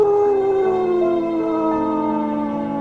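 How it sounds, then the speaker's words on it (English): A dog in the Rec Room video game lets out a long, loud, drawn-out whimper that slowly falls in pitch and sounds almost like a howl, heard alone without speech. "That is the saddest whimper I've ever heard."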